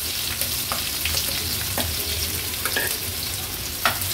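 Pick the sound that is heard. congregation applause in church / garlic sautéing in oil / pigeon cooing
garlic sautéing in oil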